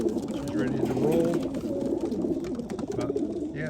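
Racing pigeons, including pure white birds, coo steadily and close together before a training toss, with someone talking over them.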